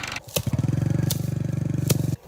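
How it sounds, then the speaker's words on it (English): A tractor stuck in a field runs with a loud, steady diesel chug of rapid regular pulses, broken by a few sharp knocks, before cutting out. "The tractor is stuck."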